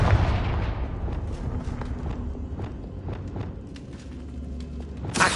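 A Confringo blasting spell explodes in Hogwarts Legacy, a booming burst that decays into rumbling debris and scattered impacts, with a fresh sharp blast at the end.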